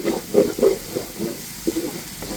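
Spice paste frying in oil for a rohu fish-head muri ghonto, close and quiet, with soft stirring scrapes and a faint sizzle in short irregular bursts.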